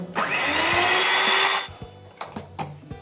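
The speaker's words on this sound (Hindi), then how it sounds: "अब मैं इसे बीटर के साथ मिक्स करूँगा।" An electric beater whirs loudly as it mixes cream and milk, a steady whine lasting over a second before it cuts off, followed by a few sharp taps and knocks.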